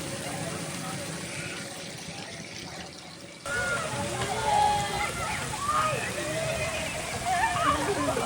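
Water guns spray riders on a Flamingo Land theme park ride. A quiet hiss gives way suddenly to a sustained wash of splashing and spraying water, with excited voices and shouts mixed into the busy outdoor noise.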